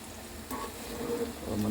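Saba bananas frying in a pan, a soft continuous sizzle that grows slightly louder, close by, with faint stirring under it.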